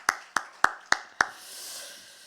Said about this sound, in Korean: 저 뒤에 한번 보시고 우리 환영의 박수 한번 해주세요